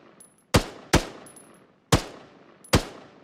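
Four loud, sharp rifle shots at pop-up targets on a video game training map, fired singly at uneven intervals, each with a short fading echo.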